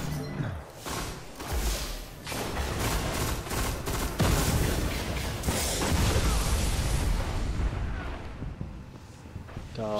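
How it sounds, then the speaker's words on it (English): Spike grenades detonating in a shooter video game, dense continuous booms and gunfire filling the whole stretch with a rumbling, crackling wash and voices underneath. "those spike grenades"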